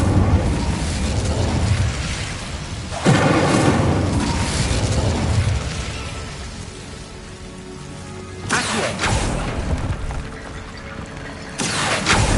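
Magic fire spells cast in Hogwarts Legacy: loud roaring, crackling bursts of flame that swell, fade and flare again, with no talking.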